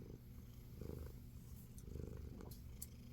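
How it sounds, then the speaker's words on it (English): A domestic cat purrs steadily and close up in a quiet room, a low continuous rumble that swells in soft rhythmic waves with each breath, heard alone with no talking. "They have a purr that is evidently at a certain vibration or sound"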